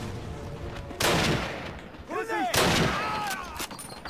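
Grenade explosion in the 2003 Call of Duty game: two loud, broad blasts about a second and a half apart, each rumbling away, with a voice speaking between them.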